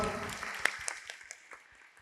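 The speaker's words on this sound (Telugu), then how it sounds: "కాబట్టి బిడ్డలందరికీ ఒకసారి క్లాప్స్ కొడదామా?" A church congregation at a Telugu feast-day service claps for children dressed in white, faint and distant, with scattered claps fading out over about two seconds.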